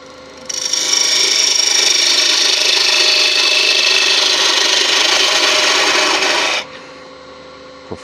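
A woodturning tool cuts into spinning mulberry wood on a lathe, a loud, continuous raspy scraping that runs for about six seconds and then stops, leaving the faint hum of the lathe.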